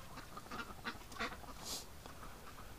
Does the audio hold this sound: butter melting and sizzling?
no